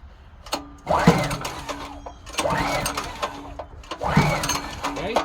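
Older Generac generator, cold, on its first start attempt with a propane carburetor, cranks in three separate bursts of rough mechanical churning with brief pauses between, with a person speaking in the background.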